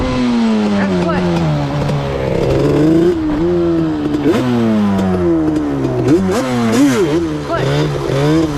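A Yamaha Banshee ATV engine revs hard and repeatedly for a clutch wheelie, its two-stroke note loud and close, rising and falling in rapid bursts with sharp throttle blips near the end.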